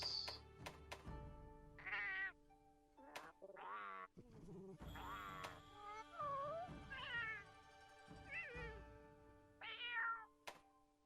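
Cat companion (Palico) in Monster Hunter Rise meowing repeatedly in short, bright, close-up calls with quick thumps and game interface blips between them, and no talking over it.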